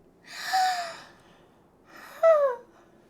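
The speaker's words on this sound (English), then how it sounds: "Oh, that turned into a real yawn." A long, breathy yawn from Lenora, a character in a comedy story, comes in two drawn-out phases with a pause between them, the second ending in a rising, voiced squeak; close and clear with no talk.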